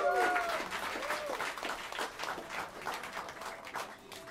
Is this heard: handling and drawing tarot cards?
no